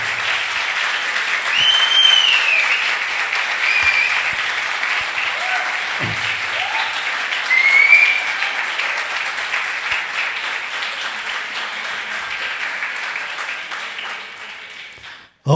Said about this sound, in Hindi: एक अच्छी ताली के साथ यीशु को महिमा